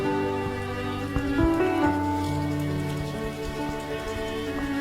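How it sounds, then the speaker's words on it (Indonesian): Heavy rain falls steadily and loudly throughout, a dense continuous wash with sustained tonal music layered over it and no voices. "Di luar sana hujan masih turun dengan derasnya."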